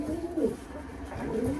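Young racing pigeon cooing in soft, repeated low throaty phrases at close range, two clear coo bursts with a faint background murmur and no talking.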